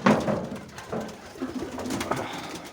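A female pigeon cooing to her mate: close, soft low coos repeating in a few short phrases over quiet background, with no talk.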